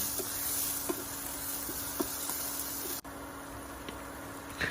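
Coriander root, pepper and garlic paste frying over low heat, a steady soft sizzle with faint clicks of stirring, fairly close and quiet, with no voices.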